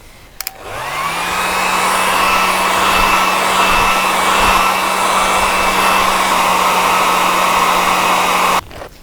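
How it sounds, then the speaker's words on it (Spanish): A hair dryer blows on crackle texture paste to dry it, a steady, loud, continuous whirring rush that switches on abruptly and runs unbroken for about eight seconds before cutting off. "Mientras se seca, le voy a dar, para no tener problemas, mejor el secador."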